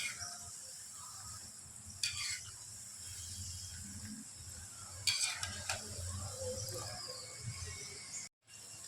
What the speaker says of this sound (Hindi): इनको पलटने पर ये आवाज़ करने लगे हैं, इसका मतलब है कि ये फ्राई हो गए हैं